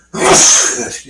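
A single loud sneeze bursts out close by, a sharp explosive blast followed by a brief trailing exhale, alone without talk.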